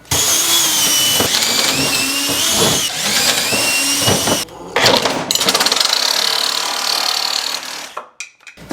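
A power drill fitted with a larger bit bores holes while building a DIY aquarium stand, whining loudly in several bursts that rise and dip, with brief pauses and a final cut-off as the motor stops.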